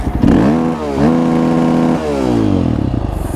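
Motorcycle engine revving hard in repeated rising and falling pulls, loud and close with a rough clattering tone, ending in a lumpy idle.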